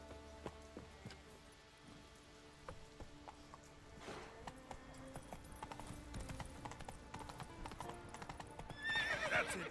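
Hooves of Roach, a horse in The Witcher 3, clip-clop steadily through most of the stretch with a neigh or whinny among them, mixed with game music and ambience, growing louder near the end.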